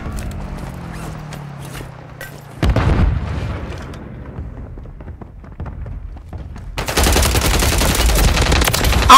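Gunfire in the Warzone video game, including a sniper shot: a sudden loud report around three seconds in, then scattered bursts and a dense, noisy stretch of heavy shooting near the end.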